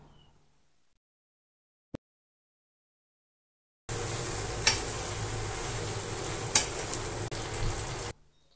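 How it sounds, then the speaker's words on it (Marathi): Fried idli pieces are stirred into a chilli idli sauce in a pan, giving a steady close sizzle with scraping stir strokes. It starts after a quiet stretch and one brief click, then cuts off abruptly. "आपण इडलीचे तुकडे तळून घेतले होते ते सर्व याच्यामध्ये घालून व्यवस्थितपणे हलवून घ्यायचं आहे."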